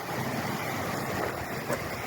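High Falls waterfall on the Pinhoti Trail in the Talladega National Forest, a steady broadband rush of falling water heard from nearby on a rocky trail, continuous and even with light wind, no voices.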